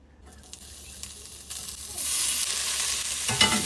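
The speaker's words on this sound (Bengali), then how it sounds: "আমি একটু ভেজে নেব।" Doner kebab meat fries lightly in a pan, a soft stirring scrape at first that swells into a steady, hissing sizzle, growing louder toward the end.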